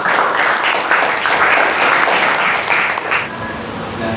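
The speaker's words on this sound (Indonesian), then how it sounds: "tepuk tangan buat kita semuanya" A junior high school class gives a round of applause in the classroom, a dense, steady patter of many hands lasting about three seconds before it thins out and fades.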